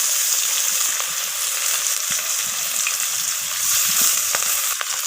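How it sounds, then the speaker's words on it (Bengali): Rohu fish pieces frying one by one in hot mustard oil, giving a loud, continuous hissing sizzle with small pops throughout. "মাছগুলো আমি ভেজে নেব। একটা করে মাছ আমি তেলের মধ্যে ছেড়ে দিচ্ছি।"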